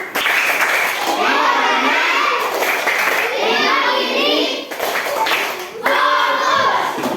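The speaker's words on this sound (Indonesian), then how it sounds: "Tepuk fokus." Schoolchildren in an Indonesian classroom perform the 'tepuk fokus' clapping routine, rhythmic bursts of group clapping in several phrases mixed with lively children's voices, close and loud.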